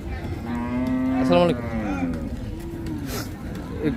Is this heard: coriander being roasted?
no